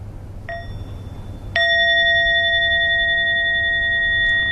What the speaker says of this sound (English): let's listen to one sound of the bell